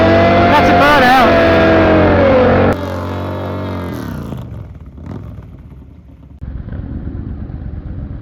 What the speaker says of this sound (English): That's a burnout.